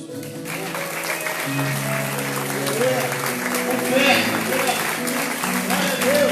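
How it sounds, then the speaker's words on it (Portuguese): A church congregation applauds during worship, a continuous patter of clapping spread across the room and mixed with voices and musical tones, building slightly toward the middle. "Você pode aplaudir o nome do Senhor Jesus."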